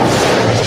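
Cannons firing at the Tampa Bay Buccaneers stadium, a loud sustained blast with a deep rumbling boom that fills the whole short moment, with no talk over it.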